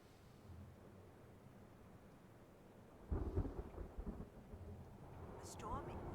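Thunder in the video game Return To Grace, a sharp rumbling crack midway that rolls out over a faint steady hiss of rain, with a brief high tone near the end.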